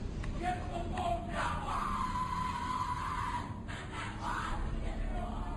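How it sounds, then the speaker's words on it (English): A Skull and Bones initiation ceremony crowd shouts and yells in a muffled, distant jumble, voices rising and falling over a constant low rumble. "What you're hearing is the first recording ever made of the Skull and Bones initiation ceremony."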